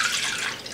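Cherry juice is poured into a bowl in a home kitchen, giving a steady close splashing trickle of liquid that holds briefly and then eases off slightly.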